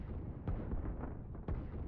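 Artillery fire in a strategy video game, a steady low rumble of distant booming with two sharper blasts standing out among the continuous barrage.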